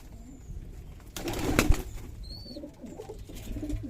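Giribaz pigeons at a loft in Chapai Nawabganj make a sudden close flurry of wingbeats, followed by faint low coos and occasional thin chirps against a quiet background.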